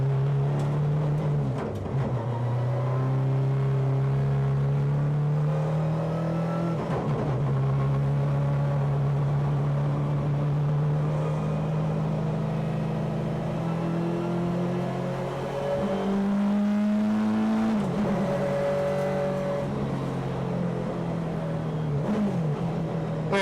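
A BMW 318i super touring race car engine on track, close and loud from inside, revving up through the gears with rising tones and short drops at each shift.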